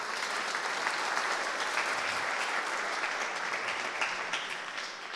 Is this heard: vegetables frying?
no